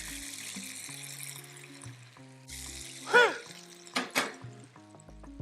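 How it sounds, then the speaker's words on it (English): Guinness poured into a hot pan to deglaze it raises a soft sizzling hiss with bubbling, then a few louder splashy bursts partway through, with no talking. "I want to take some Guinness and deglaze the pan"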